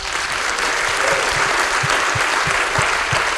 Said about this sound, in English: Please give every woman an applause here